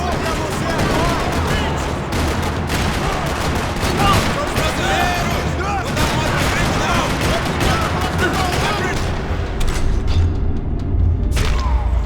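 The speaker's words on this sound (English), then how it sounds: "Another parking lot rattling with gunfire." Heavy gunfire fills a parking lot in the video game Max Payne 3: sustained bursts of automatic fire and thudding shots overlap without pause, loud and dense throughout, with a deep booming rumble late on.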